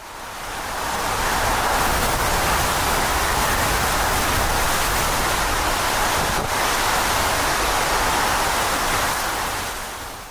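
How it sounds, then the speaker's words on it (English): Storm surf from Hurricane Erin pounds the Outer Banks shore, with waves up to 25 feet battering piers and dunes: a continuous, loud, roaring wash of breaking water and wind-driven spray that never lets up. "waves as high as 25 feet are battering piers and washing away fragile dunes"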